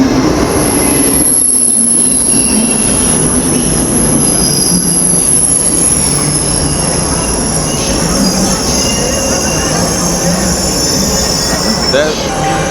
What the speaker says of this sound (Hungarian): Megjött a vonatom.